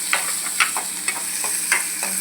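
Carrot and capsicum sauté in hot oil, a steady close sizzle broken by about five scraping strokes of a spatula stirring the vegetables in the pan.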